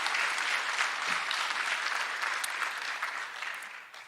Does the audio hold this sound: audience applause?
yes